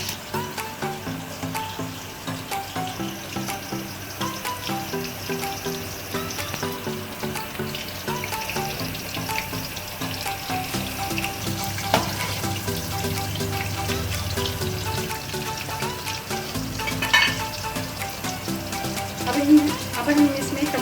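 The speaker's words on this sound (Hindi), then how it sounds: "इन करेलों को हमने हल्की दरमियानी आंच पे पकाएंगे, ना बहुत ज़्यादा तेज़ होगी और ताकि ये जले ना।" Stuffed bitter gourds (karela) filled with minced meat fry in a pan over gentle medium heat. A continuous soft sizzle runs throughout alongside a steady watery hiss, with brief clinks near the end.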